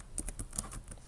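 A short burst of typing on a computer keyboard, entering a localhost address during PHP programming: several quick, close keystroke clicks in an uneven rhythm, with no talk.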